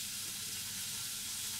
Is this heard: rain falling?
no